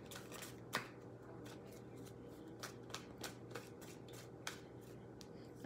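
Tarot cards being shuffled by hand at close range, a soft continuous rustle broken by irregular crisp snaps and flicks as the deck is cut and riffled, with no talking.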